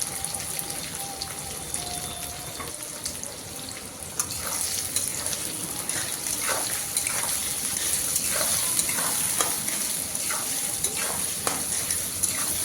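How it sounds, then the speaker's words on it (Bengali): Chopped onions, three medium ones, sizzle steadily in a pan at the start of a desi chicken curry, with a spatula scraping and stirring through them in a continuous, close frying hiss. "প্রথমে পেঁয়াজ একটু ভালোভাবে কষিয়ে নিচ্ছি।"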